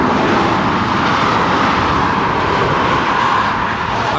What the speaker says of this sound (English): It's kind of noisy out here though with all the speeding traffic going by.